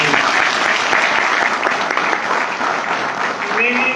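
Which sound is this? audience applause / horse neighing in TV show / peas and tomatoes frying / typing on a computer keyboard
audience applause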